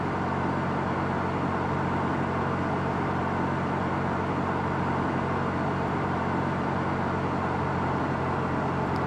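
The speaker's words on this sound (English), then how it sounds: "Starting engine number 1." Airbus A320 engine spooling up during startup in Flight Simulator X, a steady broadband whine and roar that holds level and continuous, close and moderately loud throughout with no talking.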